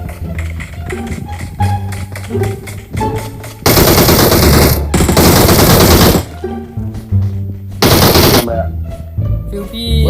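Rapid gunfire in PUBG Mobile rattles in dense bursts between stretches of music and tapping, loud and close.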